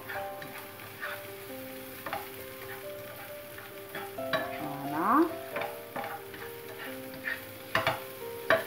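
Garlic sizzles in a hot pan with a steady crackle while a utensil scrapes and taps as it is stirred, close and moderate in volume.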